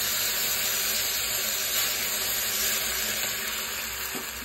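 Water is poured into rice frying in a pan, giving a steady, hissing sizzle of water and steam that runs evenly at a moderate, close level with no talking.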